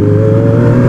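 Kawasaki ZX25R motorcycle engine idling and revving as it warms up after sitting unused for over a month, a steady close, loud drone with no talk over it.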